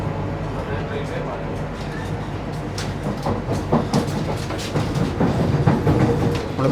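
Vande Bharat Express pulling out of Kollam station, heard from on board as a low rumble with rhythmic wheel clicks on the rail joints that grow denser and louder as the train gathers speed, while people talk throughout.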